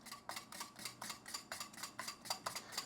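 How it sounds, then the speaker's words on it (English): A wire whisk beats a mixture in a bowl, giving a steady run of rapid, rhythmic scraping strokes at close range with no one talking. "I'll whisk a little bit."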